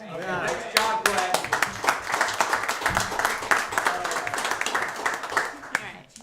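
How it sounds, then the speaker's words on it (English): A group at a town planning board meeting claps for several seconds, a dense patter of many hands, with voices talking and cheering over it before it fades. "we didn't clap for Glenn, I'm sorry."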